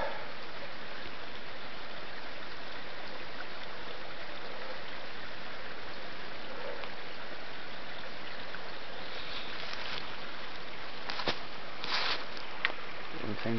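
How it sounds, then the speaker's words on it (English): A babbling brook in the woods at dusk gives a steady, even rush of flowing water throughout, with a few faint brief knocks and rustles near the end. "Everything you can hear up here is the babbling brook."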